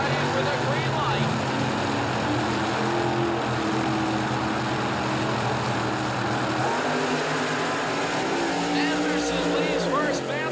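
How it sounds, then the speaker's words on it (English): Drag racing cars at the 1984 World Finals in Pomona roar continuously down the quarter mile, a loud, sustained engine blast that fills the whole stretch. "Anderson leaves first, Bandolini in hot pursuit all the way down the quarter mile"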